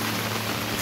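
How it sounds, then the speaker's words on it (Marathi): Heavy monsoon rain pours steadily in the Konkan countryside, with water running along a road; a dense, even hiss of close downpour fills the moment with no voices. "जवळजवळ मगासून 1 तास झाला कंटिन्यू पाऊस आहे"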